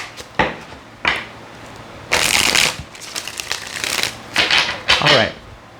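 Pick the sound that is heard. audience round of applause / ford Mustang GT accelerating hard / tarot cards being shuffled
tarot cards being shuffled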